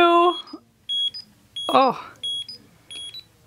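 A Digimon Pendulum Color virtual pet gives short, high electronic beeps in a quick irregular series, with a person's voice exclaiming briefly between them.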